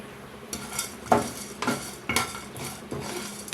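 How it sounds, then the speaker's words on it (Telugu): Crushed cashews are stirred and fried in a pan on the stove for a capsicum gravy, with a spoon scraping and clinking against the metal in about five strokes over a faint sizzle. "ఇప్పుడు దీనిలో జీడిపప్పు క్రష్ వేసి వేయించుకోవాలి"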